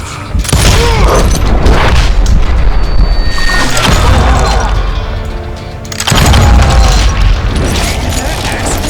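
Dynamite blasts in the Western shooter game Call of Juarez: Gunslinger: loud, dense booming explosions with crashing debris and gunfire filling the clip, a brief dip near the middle before another heavy blast surges in.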